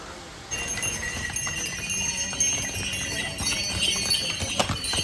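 Horse hooves clip-clop on a mountain trail as the animals carry heavy iron pipes on the Kedarnath pilgrimage route, a steady irregular clatter of several hooves over background bustle, no one speaking.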